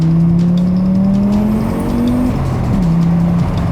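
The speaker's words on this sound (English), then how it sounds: "So this 5-cylinder, it's a legendary motor." A legendary Audi five-cylinder engine revs loudly and close, its tone climbing steadily, then dropping and settling into a lower idle near the end.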